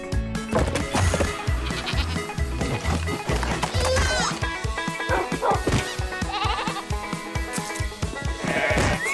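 A goat bleats repeatedly in the Minecraft 1.17 update, with several loud, wavering cries among game music and other noisy effects.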